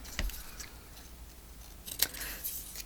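Scissors trim paper in a few quick, quiet snips, with a sharper cut near the end against soft handling noise.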